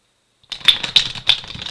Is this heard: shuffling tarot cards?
yes